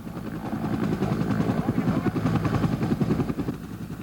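A Bell 205 firefighting helicopter throbs with steady rotor beat and engine drone, loud and continuous, while a voice talks over it.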